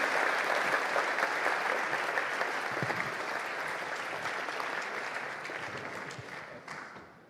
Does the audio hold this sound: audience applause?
yes